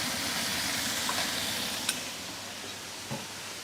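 Bok choy sizzles steadily in a hot pan while being stirred, with a soft continuous frying hiss and a couple of brief scraping clicks from the utensil, close and moderately quiet.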